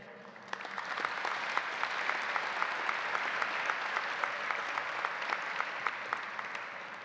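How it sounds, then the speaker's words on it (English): Graduation audience applauding steadily in a large hall, a dense, even wash of many hands clapping that swells at the start and holds loud throughout with no voices on top. "Let's give a big round of applause to everyone who's been a constant source of support for us"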